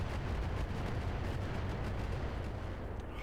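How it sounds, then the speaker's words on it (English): Missile impacts from an SRM launcher in the Battletech video game, a dense, steady rumble of blasts and explosions filling the whole moment with no let-up. "That's an SRM launcher, so that's less of a threat."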